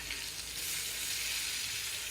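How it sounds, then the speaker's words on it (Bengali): Fish frying in a pan in a home kitchen gives off a steady, close hiss and sizzle that holds evenly all the way through, with no talking. "তো এখানে মাছ ভাজা রান্না হচ্ছে,"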